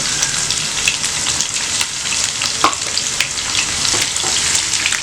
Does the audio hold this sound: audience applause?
no